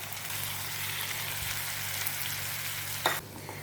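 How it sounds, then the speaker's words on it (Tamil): Tomatoes and onions sizzle steadily in a hot pan, a continuous crackling hiss with a brief scrape of stirring near the end. "இந்த தக்காளி வெங்காயம் எல்லாம் சேர்ந்து நல்லா வதங்கி வரணும்"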